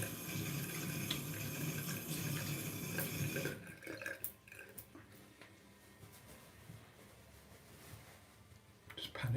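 Cold water runs steadily from a tap into a sink, a loud continuous splashing rush for about three and a half seconds, then stopping and leaving quieter room sounds with scattered knocks.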